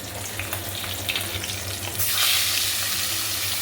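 Fish frying in hot oil in a home kitchen, a steady sizzle and crackle that swells louder partway through, with a low hum running underneath.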